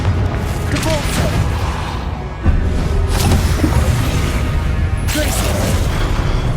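Spellcasting blasts in the Hogwarts Legacy video game, fiery Confringo and knockback Depulso, bursting as booming, crackling impacts over dense continuous combat noise, with a sharp new burst around the middle and another near the end.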